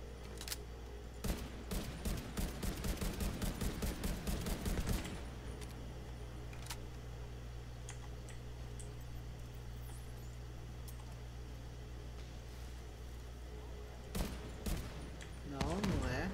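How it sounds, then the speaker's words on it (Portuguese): Machine gun fire in the video game The Division 2 rattles in dense, rapid bursts for several seconds, then drops to a low hum, with a few isolated shots returning near the end. "Tem alguma metralhadora que nós não tá vendo"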